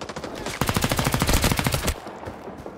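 Australian submachine gun fire in Rising Storm 2: Vietnam, a rapid sustained automatic burst of close, loud shots lasting over a second, with quieter game ambience before and after.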